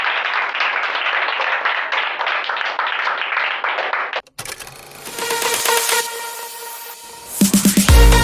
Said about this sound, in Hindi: आप लोग एक बार तालियों से स्वागत करेंगे आज के क्लास को